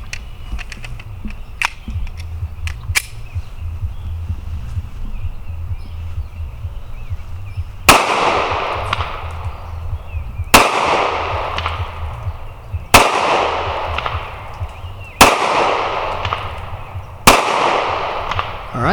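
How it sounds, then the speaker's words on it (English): Five sharp pistol shots from a Smith & Wesson M&P Shield 2.0 ring out at a shooting range, spaced a couple of seconds apart, loud and close, each followed by a brief echoing decay, preceded by quieter handling noises. "next in line is the M&P Shield"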